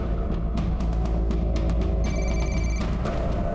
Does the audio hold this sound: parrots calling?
no